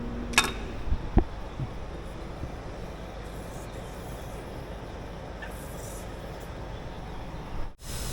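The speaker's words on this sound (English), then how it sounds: "we got our oil drain canister set up as a vacuum right now. You guys can hear that." An oil drain canister set up as a vacuum gives off a steady, even whooshing drone in a heavy equipment repair shop, with a couple of faint clanks at the start and a brief drop near the end.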